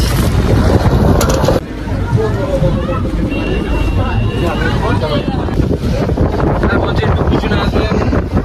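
A boat cruising on a river in the Sundarbans, carrying tourists toward a bridge, gives a steady broadband rumble of engine and water, with loud gusting wind buffeting the microphone throughout and a babble of voices underneath.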